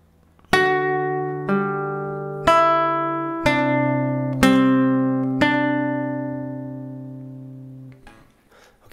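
Fingerstyle acoustic guitar plays measures 18 to 19 of a piece from Howl's Moving Castle, five evenly spaced plucked notes and chords ringing into each other, clear and close with no talk.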